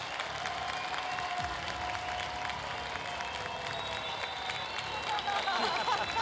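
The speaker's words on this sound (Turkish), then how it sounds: "Alkışlarınızla uğurluyoruz." Studio audience applauding steadily for a masked celebrity singer on a Turkish TV singing competition, broad sustained clapping with light cheering and some talk mixed in.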